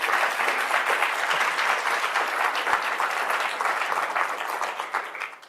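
A seated audience at a talk event bursts into dense, sustained clapping that stays loud and even before tapering off at the end.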